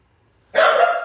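A dog lets out one sudden, loud bark close by after a moment of silence, the sound ringing briefly before it fades.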